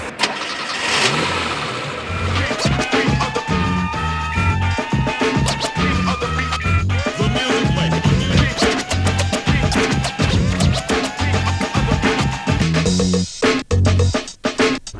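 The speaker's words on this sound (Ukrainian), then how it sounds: "Пожалуйста, кнопка стартера і машина завелась." A cheap domestic car engine starts on the push of a starter button and then revs repeatedly, rising and falling bursts with a steady idle between them, loud and close for the full stretch.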